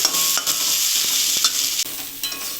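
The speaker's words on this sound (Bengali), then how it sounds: "এখন একটু নাড়াচাড়া করে নেব কিছুক্ষণ ভালো করে একটু ভাজা ভাজা করে নেব" Shola kochu stems frying in a pan while being stirred, a steady close sizzle with scraping clinks of the utensil against the pan throughout.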